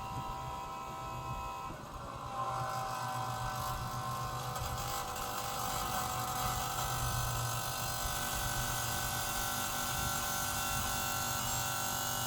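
A cheap black diesel fuel pump runs with a steady electric motor drone and whine, holding an even, constant level throughout after a slight dip near the start.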